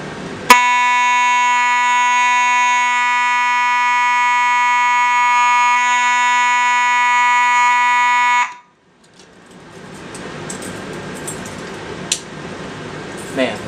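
An EST Genesis G1R-HV15 fire alarm blares a steady, very loud continuous tone for about eight seconds, then stops abruptly, leaving rustling handling noise and a few clicks.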